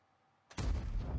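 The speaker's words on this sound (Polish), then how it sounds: "będzie ryzykował kolejny strzał" A tank gun fires once in the World of Tanks video game: a sudden sharp blast after a quiet moment, then a heavy rumbling boom that holds to the end.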